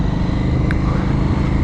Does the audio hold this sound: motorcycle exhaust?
yes